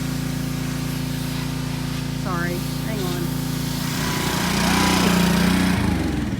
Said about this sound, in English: Chris is out here power washing the patio